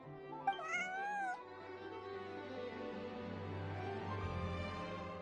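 A cat in Genshin Impact gives one clear, close meow early on, then falls quiet as soft game music carries on.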